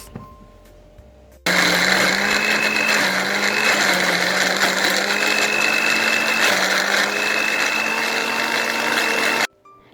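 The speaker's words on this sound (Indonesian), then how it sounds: "lalu kita blender sampai benar-benar halus" A kitchen blender grinds roasted candlenuts, coriander and white pepper with a little water into a smooth paste for a coconut-milk chicken soto. The motor whines loudly and steadily for about eight seconds, then cuts off abruptly.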